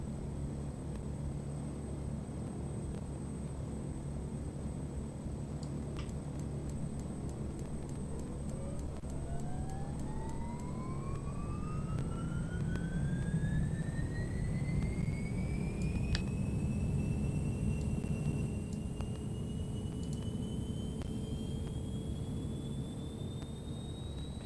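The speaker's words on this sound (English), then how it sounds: "Alright, let's turn on the other engine." A Beechcraft 1900D turboprop engine spools up in X-Plane 11, a steady whine climbing in pitch over about twenty seconds above a constant droning hum from the other running engine, with no talk.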